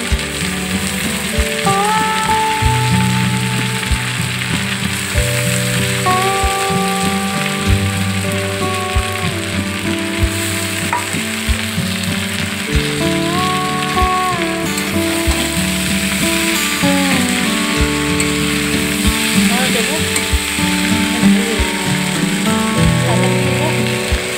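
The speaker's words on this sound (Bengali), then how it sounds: "এবার আমি ওই যে ভিজিয়ে রাখা চাউমিনটা দিয়ে দিচ্ছি। দেখুন দিয়ে ভালো করে নাড়াচাড়া করে নেব।" Soaked chowmein noodles sizzling loudly in a pan as they are stir-fried with egg and vegetables, a dense continuous crackle with a steady rhythm of tossing and spatula clatter, with a voice talking faintly over it.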